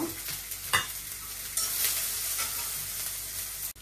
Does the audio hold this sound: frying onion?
yes